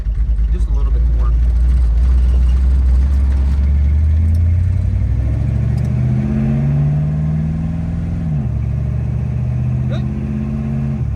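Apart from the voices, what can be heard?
car engine running while driving the revived high school car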